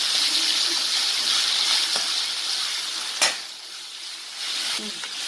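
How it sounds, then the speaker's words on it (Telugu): Onions and curry leaves sizzle steadily in hot oil as they are stirred, a continuous bright frying hiss with a few soft scrapes and clicks of the spoon against the pan. "ఇప్పుడు ఆనియన్స్ వేసుకుని బాగా మిక్స్ చేయాలి"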